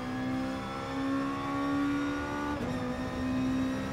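A Super GT race car in Gran Turismo Sport drones with a steady, tonal engine note that holds, then dips briefly in pitch before settling again, with no other sounds.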